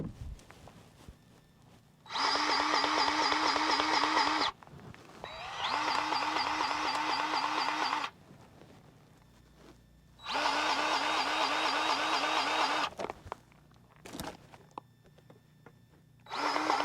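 A DeWalt 20V cordless grease gun runs in three separate bursts of a few seconds each, a close, buzzing motor whine with quiet pauses between.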